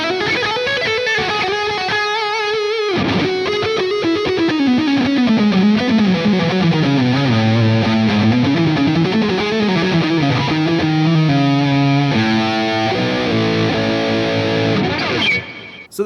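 A heavily distorted electric guitar plays a soaring, sustained lead line through a PRS Archon 50 MKII amp with high gain, loud and continuous with bending, gliding notes and no talking.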